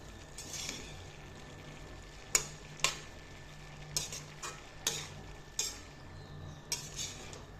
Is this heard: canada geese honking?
no